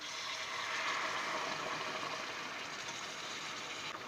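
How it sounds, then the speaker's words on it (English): Two cups of hot bean-cooking water pour into a pot of red kidney bean curry, making a steady, close, hissing splash that fills all four seconds with no voices. "now I'm going to add in 2 cups of hot water"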